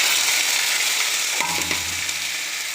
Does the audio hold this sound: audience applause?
no